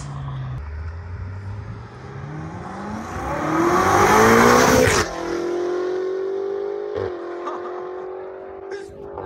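A stage 2 BMW M5 of about 750 hp with a full straight-pipe exhaust revs hard as it approaches, peaks loudly as it roars past, then drops to a lower, raspy drone as it pulls away.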